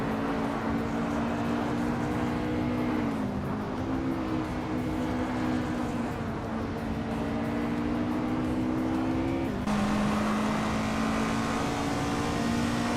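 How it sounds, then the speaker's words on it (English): A Nissan Skyline GT-R33 LM race car and other racing cars roar through a video game race, with a steady loud engine drone that shifts pitch at gear changes and holds continuously with no talk. "Scuderia Veloce is driving a Nissan Skyline GTR 33 LM."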